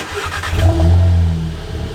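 Volkswagen Golf Alltrack engine fitted with a blow off valve spacer, revving up briefly from idle in a garage, a close, loud rising engine drone that holds and then eases back down.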